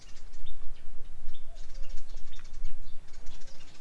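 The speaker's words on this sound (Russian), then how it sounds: "Вот, я сижу, птички поют" Birds singing outdoors: scattered short chirps and tweets, some brief and high, sounding at a moderate distance over a loud steady wash of wind or rustling noise, with no voices.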